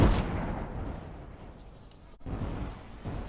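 Warship broadside artillery fire in the Roblox Warships video game: a loud opening blast followed by rumbling booms, a brief dropout, then further heavy cannon thuds rolling in.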